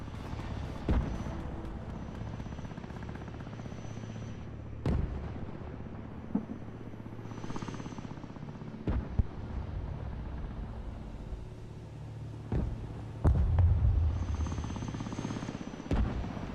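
Explosions from a destroyed MLRS rocket launcher position in the war game Broken Arrow, with several sharp booms at irregular intervals over a continuous low rumble of engines and battle noise, some near and loud, others more distant.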